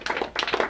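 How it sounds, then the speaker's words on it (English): A few people in a lecture audience give a volunteer a short burst of clapping, a handful of close, distinct claps in two quick clusters. "Give her a big round of applause"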